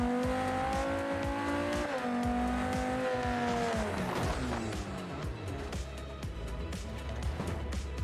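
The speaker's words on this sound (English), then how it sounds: "I'm taking it for a cruise as a cabrio through the sunny streets of Italy" A Lamborghini convertible mod in the BeamNG Drive driving game revs and accelerates through sunny Italian streets. The engine tone rises and falls in pitch, with a steady, close, continuous drone and faint tire noise.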